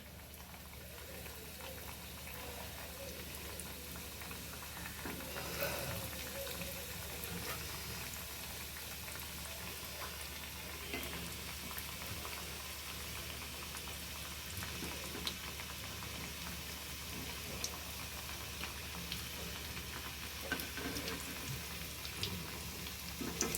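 A chicken finger, marinated with sour yogurt, fries in hot oil over lowered heat, giving a steady, soft, dense crackle and bubbling hiss that continues evenly throughout without talk.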